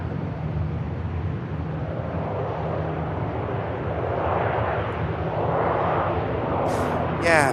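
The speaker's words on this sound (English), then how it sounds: "And next aircraft in. Aer Lingus. ATR from Dublin." An Aer Lingus ATR turboprop arriving from Dublin at Manchester Airport, a continuous broadband engine rumble that swells toward the end, with a voice talking over it.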